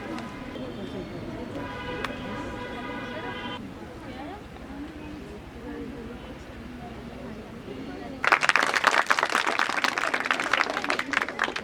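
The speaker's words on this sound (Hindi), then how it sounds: "और इसके लिए ताली बजाओ जोरदार।" Loud, dense applause from an audience at a women's empowerment event bursts in partway through and keeps going to the end, after a stretch of talk with some birdsong behind it.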